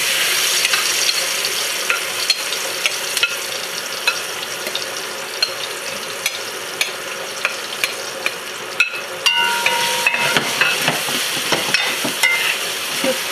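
Vegan curry goat frying in hot oil in a deep Dutch pot, a steady sizzle broken by repeated stirring scrapes and clatters, close and fairly loud throughout.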